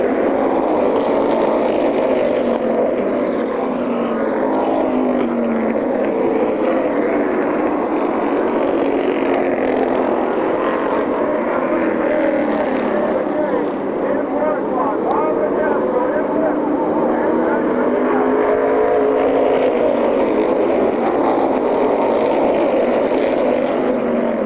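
Race cars at Airborne Raceway roaring down the stretch at a 1991 weekly event, a loud, continuous layered engine drone that swells and fades slightly, with an announcer talking over it.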